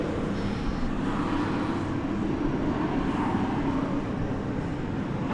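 A plane on short final to runway 18 right at DFW Airport gives a broad, steady roar of jet engines and rushing air, moderately loud and fairly distant, without speech.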